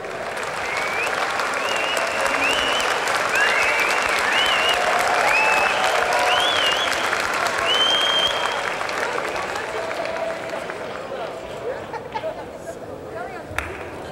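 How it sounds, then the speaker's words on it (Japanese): Crowd applause at a 1981 world title professional wrestling match, a dense sustained roar of clapping from a large arena audience, with crowd chatter and whistles mixed in before slowly tapering off near the end. "大きな拍手が送られました。"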